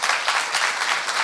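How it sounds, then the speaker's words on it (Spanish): A live audience gives a speaker a strong welcoming round of applause, a short, steady wash of dense clapping from a crowd. "Un fuerte aplauso, por favor."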